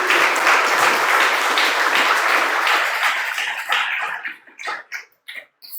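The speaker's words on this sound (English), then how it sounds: "they deserve a big round of applause" An audience claps loudly together, the applause thinning out and dying away into a few scattered claps at the end.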